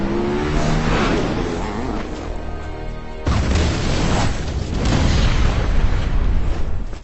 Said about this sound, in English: the Joker blows both Jason and his mother up in a fiery